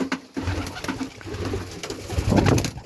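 Pigeons coo steadily and close by, their low throaty calls rolling on over a rustling background with no one talking.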